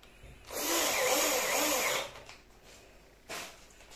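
A power drill drives a screw while a new dishwasher is installed: one steady whirring burst of about a second and a half, close by, then a brief second whir near the end.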